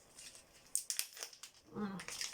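A package of fondant sweets is unwrapped with sharp crinkling and tearing of wrapper material in a few quick bursts, close and fairly quiet, alongside bits of talking.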